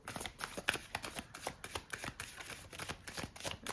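Oracle cards shuffled by hand during a tarot reading, a quick series of soft close riffling flicks and slaps in an uneven rhythm, fairly quiet with no talk.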